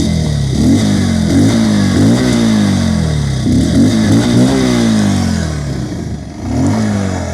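A 2022 TVS Apache RTR 160 2V motorcycle engine idles and revs repeatedly, its pitch rising and falling in steady cycles, loud and close throughout.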